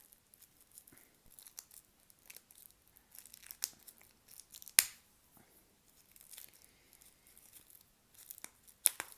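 Packaging on a Harry Potter card game is torn open by hand in a quiet room, giving faint, intermittent rips and crinkles with one sharper snap partway through.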